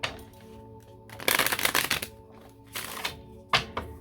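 Tarot cards being shuffled by hand up close, a few quick riffling bursts separated by short pauses, fairly quiet against a faint background hum.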